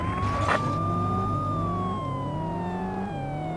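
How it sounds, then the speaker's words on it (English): A loud police siren wails continuously in a video game, its pitch sliding up and down over a low engine hum, close by. "you have to actually keep the sirens on"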